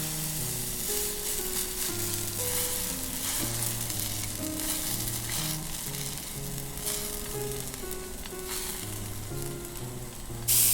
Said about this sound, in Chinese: 然后倒上饼糊， 用小火慢煎。